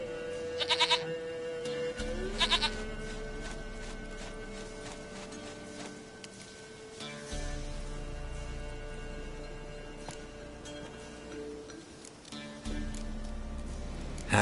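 A goat in The Witcher 3 bleats in several short, nasal calls, moderately close over steady game ambience and music, with bursts near the start and again toward the end.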